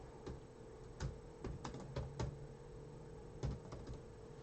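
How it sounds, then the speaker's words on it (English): Fingers tap a computer keyboard in irregular clusters of quiet, sharp clicks, with short pauses between bursts, close and faint over a low steady room hum. "I think I'm typing in the box"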